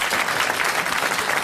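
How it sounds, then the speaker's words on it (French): A studio audience on a 1981 French television show applauds in a dense, steady wash of clapping throughout, with no voices standing out. "applaudissements"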